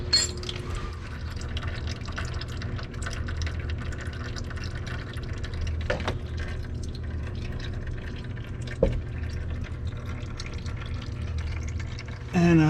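Engine oil from the dry sump of a C7 Corvette drains steadily into a pan, a continuous close trickle and patter with a couple of brief louder clanks near the end.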